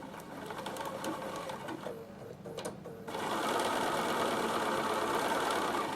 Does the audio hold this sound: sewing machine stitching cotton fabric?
yes